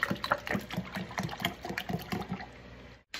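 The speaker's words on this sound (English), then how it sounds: "Pour in your almond milk, as much as you want." Almond milk pours in a thick, glugging stream with rapid bubbling pulses, close and fairly loud, stopping abruptly near the end.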